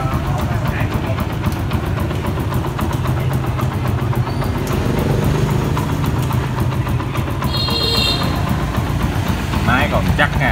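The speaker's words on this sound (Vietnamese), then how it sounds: "máy chắc máy chuẩn ha, nghe tiếng êm quá." A Yamaha Exciter 135 motorcycle engine idles close by in a loud, steady, smooth rumble throughout, with a brief higher whine partway through.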